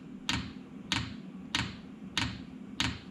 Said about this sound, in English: So the little pump's clicking away again.